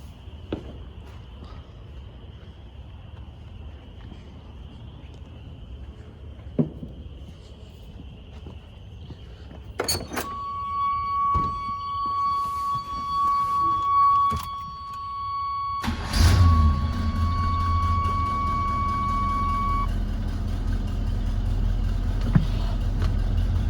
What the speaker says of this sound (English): we're gonna crank it back up and see if it's whining like it was just a second ago